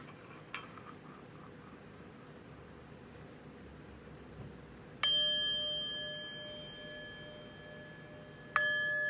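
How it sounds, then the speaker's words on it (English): Chimes are struck twice before a tarot reading, each strike a bright metallic ring that hangs and slowly fades over a faint hiss, with a soft clink earlier on. "But first, let's chime."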